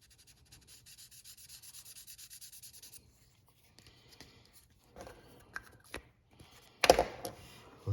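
A wood chisel is rubbed on a sharpening stone with a soft, rhythmic back-and-forth scrape, faint and close, followed by sparse quiet handling clicks and a brief louder scuff near the end.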